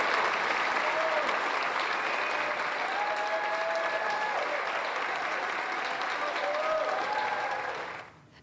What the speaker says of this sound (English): well-deserved applause for Shante Smith